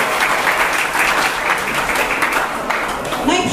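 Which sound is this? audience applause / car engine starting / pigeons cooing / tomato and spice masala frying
audience applause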